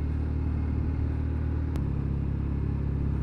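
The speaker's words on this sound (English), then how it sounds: "They have got a nice sound to them, the old British bikes, that old parallel twin sound." A Norton 650SS, a classic British parallel-twin motorcycle, holds a steady, throaty engine rumble throughout, with one brief sharp click midway and no voices.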